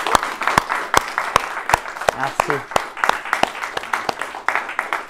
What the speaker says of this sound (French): Je pense qu'on peut tous applaudir